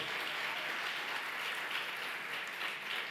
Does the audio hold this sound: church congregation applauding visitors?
yes